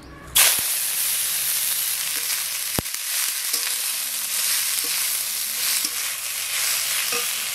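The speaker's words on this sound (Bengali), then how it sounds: "সরষের তেল, এইবার আমি শাক দিয়ে দেবো।" Kheshari greens hit hot mustard oil with a sudden loud sizzle that settles into a steady, dense frying hiss, punctuated by a few faint stirring clicks and scrapes.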